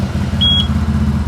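A 2024 CFMoto CForce 1000 Touring ATV engine idles with a steady, deep low rumble close by, and a short electronic beep sounds once near the start.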